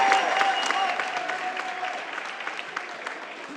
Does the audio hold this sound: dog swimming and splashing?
no